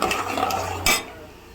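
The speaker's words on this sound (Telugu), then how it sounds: "పల్లీలు వేసుకుంటున్నా" Peanuts tumble into a hot cooking pan with urad dal for a mango pulihora tempering, a quick light clatter over a low kitchen sizzle, brief and close.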